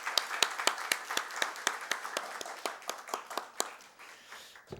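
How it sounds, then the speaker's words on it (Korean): A small church congregation applauds during a Sunday service, steady claps that gradually thin out and fade, with no talking. "우리 격려의 박수"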